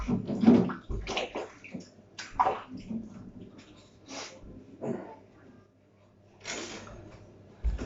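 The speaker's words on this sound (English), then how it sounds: "just wash my hands" Hands being washed under running water, heard as irregular splashing and rinsing bursts with short pauses between them, close up.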